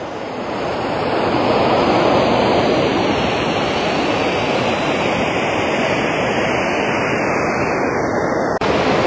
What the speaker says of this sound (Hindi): इतना तेज करंट है नदी का, और इतनी आवाज़ आ रही है